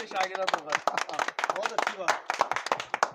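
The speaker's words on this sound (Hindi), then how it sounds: "बहुत बढ़िया तालियां बजा दो भाई जरा" A small group of people clap briskly in scattered, uneven bursts at an informal pigeon-keeping gathering, mixed in among overlapping voices.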